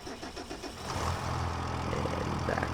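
A tractor engine in the Farming Simulator 25 video game cranks with a rapid stuttering starter rhythm, then catches and settles into a steady, low, close idle rumble.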